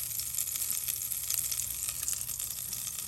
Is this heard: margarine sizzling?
yes